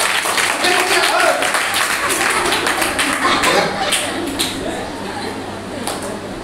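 Children at a church retreat clap together for a little girl named Nancy, a steady patter of many small hands that fades slightly toward the end, with voices mixed in.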